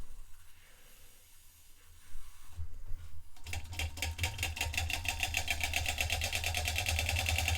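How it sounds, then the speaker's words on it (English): A late-model Weeden #20 brass upright model steam engine starts up after a quiet moment, then settles into a fast, steady chuffing with hissing steam, close and continuous. "It's a very good running little engine now."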